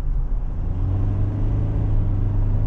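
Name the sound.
GWM Cannon Alpha 2.4 diesel accelerating at full throttle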